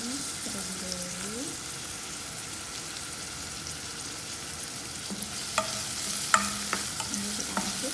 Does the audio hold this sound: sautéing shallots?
yes